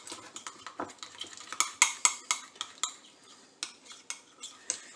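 A utensil stirring honey mustard sauce made with mayonnaise in a bowl, giving a steady series of quick clinks and scrapes, close and clear with no talk.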